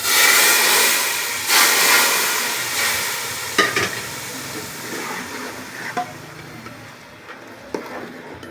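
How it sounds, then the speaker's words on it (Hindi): A hot tempering of cumin in oil hits the kadhi of a kadhi pakora with a loud steaming hiss that fades gradually over several seconds, punctuated by a few clinks and bubbling pops. "ये देखें, ये हमारा भगार लग गया है कढ़ी में।"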